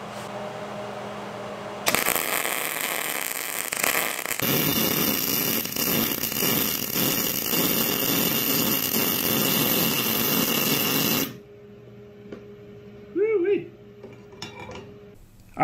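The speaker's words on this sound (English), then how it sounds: "first round's going to be no gas. This thing's going to spit and sputter, and it's going to be full of porosity." A MIG welder run with no shielding gas crackles and sputters harshly and loudly for about nine seconds after a few clanks of gear, then cuts off to quieter room noise with a brief voice.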